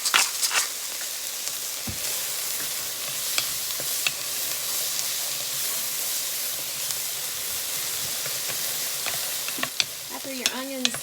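Onions sweat with salt and freshly ground pepper in a soup pot for creamy potato soup, giving a steady close sizzle and hiss with occasional stirring clinks, no talking.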